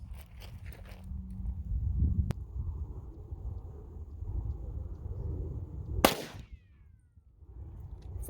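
A Glock 33 pistol fires a .357 SIG Winchester Ranger T-series 125-grain round through a chronograph outdoors, giving one sharp, loud report midway through a quiet low rumble, with only a faint tick before it.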